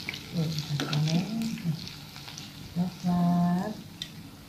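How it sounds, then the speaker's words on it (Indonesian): Tempeh and tofu bacem frying in hot oil, a steady close sizzle running throughout with brief clattering stirs and a voice murmuring over it. "Kita goreng."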